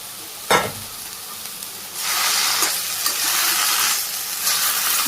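Vegetables, including papaya, fry in a pan on a village stove. A sharp clank of stirring opens, then a soft hiss swells into a steady, close sizzle with occasional scraping.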